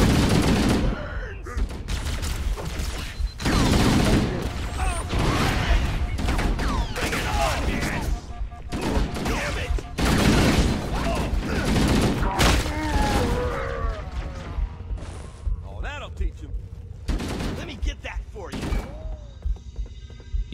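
Rapid gunfire from Halo: Combat Evolved rattles through the whole stretch in loud, dense bursts with heavy thuds, while someone talks over the shooting.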